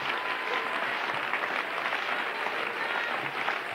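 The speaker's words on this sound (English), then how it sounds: "Clap your hands one more time to the Lord." A church congregation claps hands together during a lively worship service, a steady, dense wash of applause that fills the room without a break.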